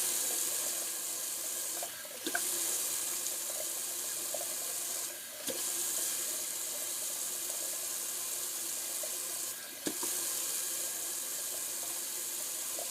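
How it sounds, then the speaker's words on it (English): Tap water runs steadily to rinse an alum block at a sink after a wet shave, a continuous close hiss with a few brief dips and small clinks. "I'm actually going to rinse this alum off because I usually do."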